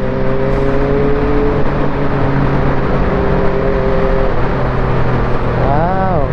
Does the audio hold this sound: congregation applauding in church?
no